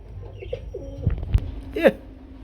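A pigeon gives a few soft, close coos over about two seconds, with faint background noise.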